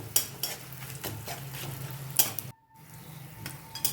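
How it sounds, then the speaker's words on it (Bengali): Ginger, green chilli and asafoetida tempered in hot oil for a kadhi: close, steady sizzling crackle with repeated clinks of a spoon stirring against the pan, cut by a brief hush near the end before the frying resumes. "দিয়ে দিচ্ছি আদা কুচি, আর দেব কাঁচা লঙ্কা আর হিং ফোড়ন।"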